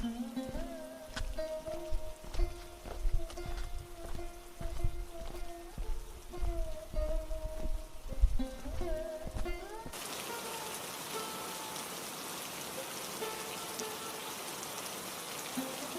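Steady heavy rain hiss begins partway through and continues alone to the end, after a stretch of music.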